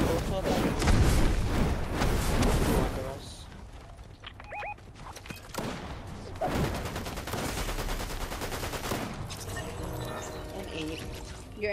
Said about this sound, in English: Your NPC was shooting at the floor.